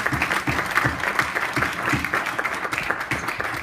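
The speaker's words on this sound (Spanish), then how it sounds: "Vamos a darle un aplauso a Dios." A church congregation claps together during a worship service, a sustained, fairly loud wash of many hands with a steady rhythmic pulse and no voices over it.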